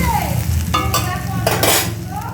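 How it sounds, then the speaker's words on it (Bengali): Lentil dumplings (bori) frying in a pan for a mixed-vegetable dish, a steady close sizzle with stirring scrapes and bursts of spattering throughout, no voices. "তো এই যে চচ্চড়ির জন্য বড়ি কটা ভেজে নিচ্ছি"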